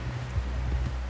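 Horse hooves clip-clop at a slow walk in the video game Red Dead Redemption 2, soft repeated thuds over a steady low ambient rumble, with no talk.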